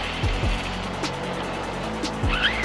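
An Arrma Kraton 6S EXB RC car fitted with Pro-Line Trencher 3.8 belted tires runs at full throttle, its loud, high electric whine climbing and dropping in quick sweeps with tire scrabble, close and continuous.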